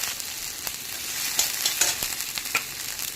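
Onion paste and spices frying in a pan, a steady close sizzle with small crackles and pops running throughout, no voices.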